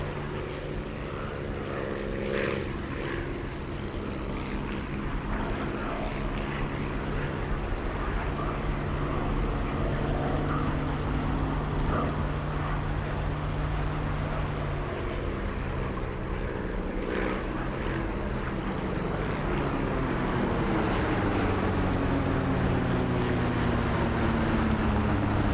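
WW2 propeller fighters, a Spitfire IX and an FW 190A-8, drone in DCS combat flight simulation, a loud continuous engine roar with shifting pitch as the aircraft manoeuvre.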